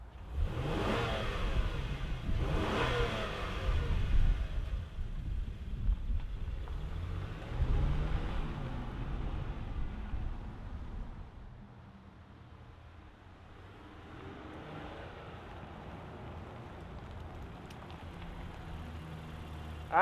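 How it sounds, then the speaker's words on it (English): A 2025 Honda Pilot Trailsport's V6 engine starts and revs loudly a couple of times, then settles into a steady, quieter idle heard from nearby outside the SUV. "let's fire up this V6 and hear what it sounds like"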